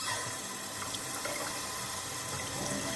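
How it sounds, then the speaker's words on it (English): A steady rush of running and splashing water, like a tap filling a sink, continuous and even throughout with no voices, used as a video game sound effect for cold water splashed on a face. "As the cold water splashes my face"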